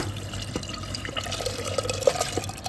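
Soaked lentils being tipped into cooked masala in a pot, giving soft wet splashes and dribbling, liquid patter for a few seconds, close up with faint background hum and no talking.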